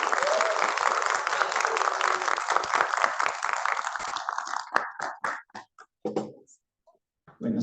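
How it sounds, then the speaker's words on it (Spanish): Church congregation applauding a new sister in the faith, dense steady clapping for about four seconds, then thinning into scattered individual claps and brief pauses. "demos un aplauso a nuestra nueva hermana en la fe"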